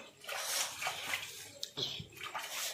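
Dishes are washed by hand under running water at home, with a steady splash and clatter close by and brief voices in the background.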